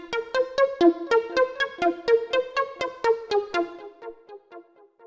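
Bright synth pluck preset from a deep house sample pack running a quick, steady arpeggio of short repeated notes that fade out near the end, clear and alone with no talking.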